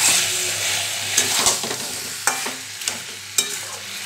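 Mutton curry fries and sizzles steadily in a pan over low flame, with a spoon scraping and stirring through it in several sharp, irregular strokes, close and loud with no talking.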